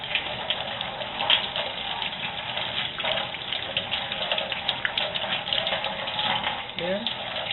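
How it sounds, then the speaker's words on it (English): Ordinary tap water runs steadily from a faucet as small plastic model kit parts are rinsed, a continuous close splashing stream with faint handling noises throughout. "give them a rinse with running water."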